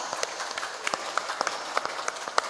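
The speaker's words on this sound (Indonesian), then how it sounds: "Tepuk tangan dingin kok." Sparse, scattered hand claps from a small, lukewarm audience at an afternoon Islamic sermon gathering. The claps are irregular single strikes over a low background rather than a full ovation.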